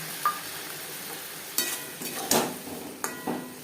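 Fish curry with eggplant and spices being stirred and fried in a pan, a low steady sizzle broken by several sharp scraping knocks of a spoon against the pan.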